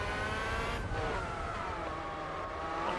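A car engine in the video game Gran Turismo 4 Spec II, with a modded engine sound, revs and climbs in pitch, accelerating steadily with rising whine, fairly quiet and continuous, with no talking.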